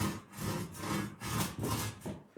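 A hand saw cutting wood: rhythmic back-and-forth rasping strokes, about five of them in quick succession, close and fairly loud, with no talk over them.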